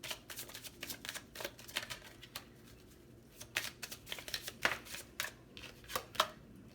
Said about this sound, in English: we'll get a couple more cards